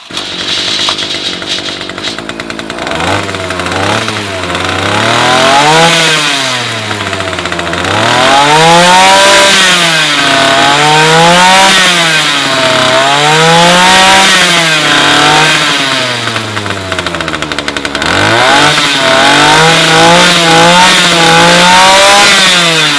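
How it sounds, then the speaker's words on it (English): A repaired Titan oscillating multi-tool motor starts up and runs loudly for a long stretch, its pitch rising and falling in repeated waves. Heard close with no talking. "I'll start the machine up and we'll see if it's made any difference"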